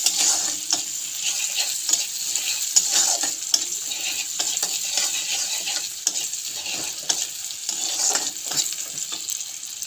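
Chopped onions fry in hot oil with a steady, bright sizzle, broken by repeated scraping knocks as a spatula stirs them around the pan, close up and without talk.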